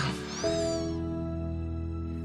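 Cats meow in a short, high, wavering cry near the start, followed by steady tonal background sound, all fairly faint.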